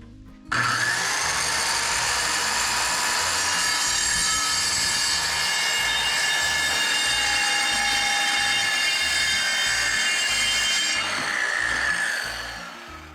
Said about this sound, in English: Alright, we're going to cut this now.